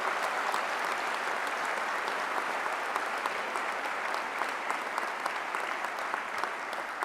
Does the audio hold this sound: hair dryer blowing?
no